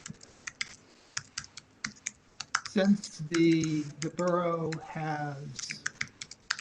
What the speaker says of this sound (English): You're typing away, and all I hear is banging.